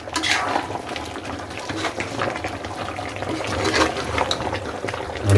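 A ladle stirs egg chicken sambar in a cooking pot, giving a continuous wet churning and sloshing with light scrapes against the metal, close and fairly loud.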